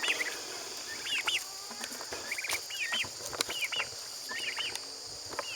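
Turkeys and other poultry on a farm call with repeated high, yelping chirps in quick clusters, fairly near, over a steady background of insect buzz and faint rustling.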